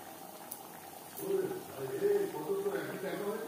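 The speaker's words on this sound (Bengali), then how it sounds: "গ্রেভি বেশ ভালো করে ফুটিয়ে নেব।" Tilapia curry gravy of onion and tomato bubbles at a steady simmer in the pot, a soft continuous burbling that swells after the first second and keeps going.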